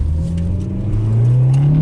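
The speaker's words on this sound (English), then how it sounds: "Ooh, little wheel hop." A Honda Civic EK hatchback (GSR) accelerates hard with a little wheel hop on cold tires. The engine drone rises steadily in pitch from inside the car, loud and continuous with no talking.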